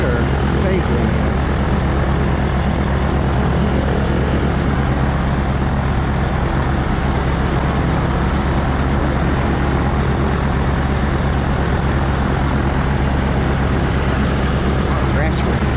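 A gyrocopter taxis on a grass runway at Samara, Costa Rica, giving a loud, steady propeller and engine drone with constant low rumble. It is close and continuous throughout.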